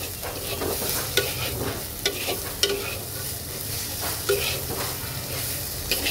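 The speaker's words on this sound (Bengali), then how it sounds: "তো চলো এটাকে 2-1 মিনিট একটু ভেজে নেই।" Masala spice paste sizzling in a little oil for a fish dopiaza, a steady bright frying hiss with intermittent spatula scrapes and taps against the pan, close and fairly loud.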